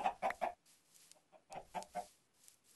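Chicken clucking in the video game Minecraft, two short bursts of three or four quick clucks separated by a pause, close and clear over a quiet background.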